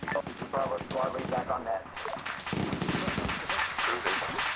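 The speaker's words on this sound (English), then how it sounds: "we are still taking quite a bit of fire from the outskirts of town" Gunfire and explosions rage in a Korean War video game battle with tanks, dense overlapping cracks and booms rattling continuously at high volume with no pause.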